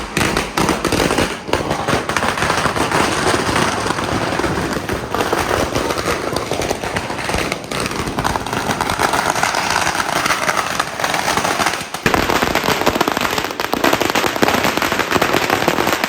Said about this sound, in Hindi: तेरे दिल को तसल्ली देने के लिए तो पटाखे फोड़ रहा हूं।